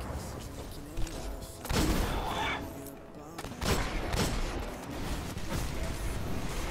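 Heavy weapon fire from a boss in Destiny crashes in bursts of booming, crackling blasts over steady battle noise, loud and close, with a voice speaking underneath.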